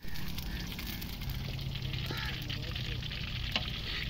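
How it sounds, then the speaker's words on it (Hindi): Fish fries in a pan outdoors, giving off a continuous dense sizzle and crackle that stays fairly faint, with scattered background noise. "ये फ्राई हो रही है फिश।"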